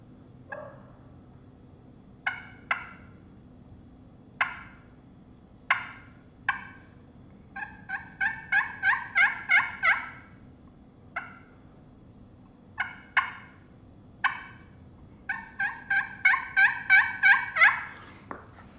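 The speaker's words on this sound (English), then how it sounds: "It's just a very low volume front end of the yelp." Turkey yelps made on a Dead on Arrival slate friction call with a rounded-tip striker, soft single notes and then quick rising runs of clucking yelps, repeated in several series, close and alone.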